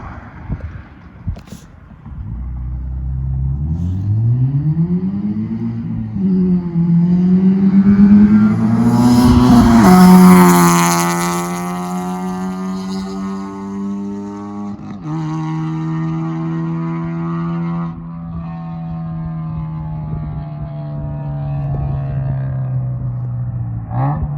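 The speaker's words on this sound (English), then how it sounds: "We had the 2J Racing unequal link header for the B16 spec V on here." A Nissan B16 Spec V engine fitted with a 2J Racing unequal length header revs up hard, its loud rasping note climbing steeply, peaking, then settling into a sustained high idle.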